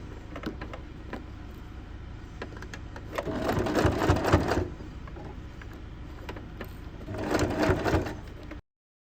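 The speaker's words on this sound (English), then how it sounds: "top stitch 1 mm from the edge all the way" Top stitching a bag pocket 1 mm from the edge, a sewing machine whirs in two short, louder runs over quiet handling noise, near and without talk.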